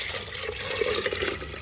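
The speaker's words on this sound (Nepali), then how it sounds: "त्यस पछाडि पानी हाल्छु" Water pours into a pressure cooker holding dal with onion and tomato, a short gurgling fill with bubbly splashing, close and fairly soft.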